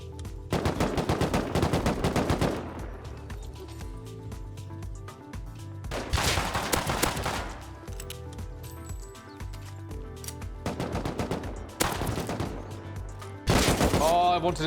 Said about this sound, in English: I went to investigate what all the shooting was about.